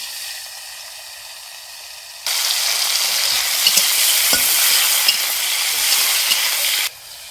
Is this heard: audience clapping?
no